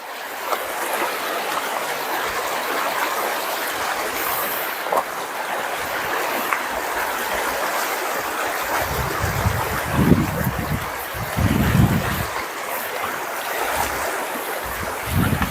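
Steady rushing river current at Daraitan in Tanay, Rizal, a broad continuous wash of flowing water close by, with a few low thumps and some wind buffeting toward the end.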